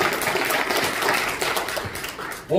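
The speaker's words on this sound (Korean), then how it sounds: "여러분들을 위한 박수 보내드리겠습니다" Applause from the audience at a foundation launch event in Korea, a crowd clapping steadily for a couple of seconds before tapering, followed by a brief voice at the very end.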